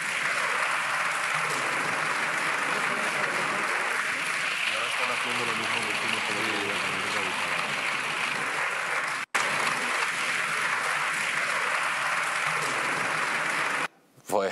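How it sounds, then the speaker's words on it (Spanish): Sustained applause fills a parliamentary chamber after a speech, a dense, even wash of many hands clapping at moderate distance, continuing with a brief cut near the end. "No sé si tenemos imágenes de esos aplausos"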